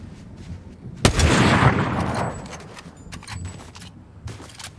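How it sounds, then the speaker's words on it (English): Fortnite gameplay with a single loud, close sniper gunshot that cracks and rolls into a long echoing tail, followed by quieter scattered clicks and footsteps. "I think someone just sniped at me."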